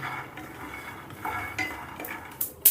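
Peanuts roast in a pan with scattered scraping and clinking of a utensil against the metal, a few sharper knocks near the end, close by and without talk.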